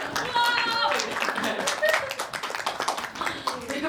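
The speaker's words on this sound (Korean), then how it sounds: "여러분 큰 박수로 맞으시기 바랍니다" Audience applause greeting the first-place winner at a Korean leadership school admissions information session, steady clapping through the whole stretch with a voice talking over it.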